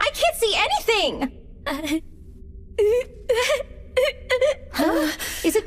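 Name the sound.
someone crying in anime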